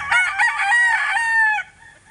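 A rooster of the Boston Iskulin line on a gamefowl farm crows once, loud and close, a long strained call that trails off after about one and a half seconds.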